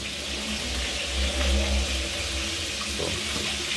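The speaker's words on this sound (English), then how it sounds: "you have to wash my rice." Rice is rinsed under steadily running tap water while cooking a Jamaican home-style Sunday dinner. The water gives a constant close-up rushing and splashing with no break.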